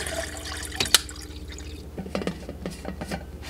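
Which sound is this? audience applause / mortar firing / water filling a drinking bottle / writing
water filling a drinking bottle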